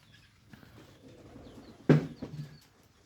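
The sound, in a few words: pigeons cooing and flapping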